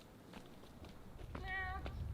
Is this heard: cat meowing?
yes